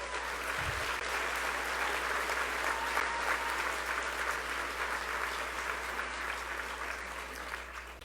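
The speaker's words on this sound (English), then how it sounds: "So give yourselves a round of applause as well." Sustained applause from a school-rally crowd fills the whole stretch, a dense, steady wash of many hands clapping at even loudness, fading slightly toward the end.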